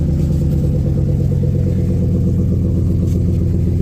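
A Ford F-150 pickup fitted with a Roush exhaust idles with a loud, steady, deep rumble, heard up close and alone with no talking over it.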